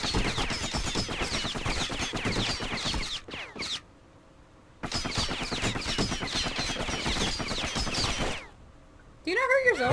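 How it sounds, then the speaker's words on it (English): Enemy gunfire crackles in the action video game Bastion, loud, dense rapid bursts in two long stretches separated by brief near-silent gaps, with a short tonal game effect at the end. "Good thing pin cushions can't see where they're shooting."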